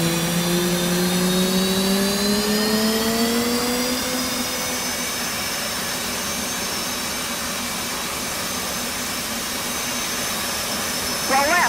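An F/A-18 jet engine spools up during a cold start in the DCS flight simulator, a loud whine rising in pitch and then settling into a steady high roar over a broad rushing hum.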